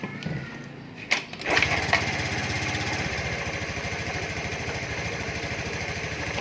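A Honda Beat FI scooter engine is cranked and catches after a couple of short clicks, then settles into a steady, fast-pulsing idle that runs evenly and close by.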